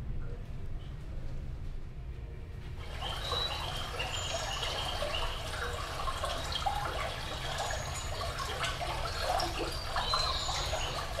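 A recorded babbling brook plays back through hi-fi speakers in a listening room, a steady close trickle and burble of running water that starts abruptly a few seconds in and then flows on evenly.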